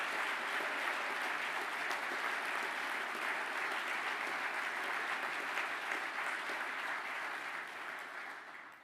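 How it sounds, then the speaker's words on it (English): Sustained audience applause at a graduation ceremony for construction management graduates, a dense steady clatter of many hands that carries on for several seconds and fades slightly at the end, with no talking. "can you give this group of construction management graduates and Stephen's classmates a round of applause"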